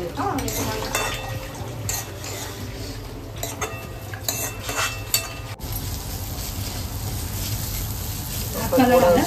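Food frying in ghee while being stirred, with a steady soft sizzle under repeated scraping and clinking of a utensil against the pan.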